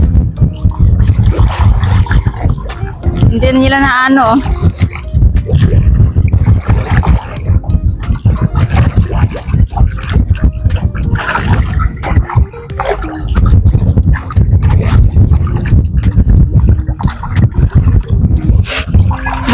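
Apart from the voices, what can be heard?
strong wind at a lake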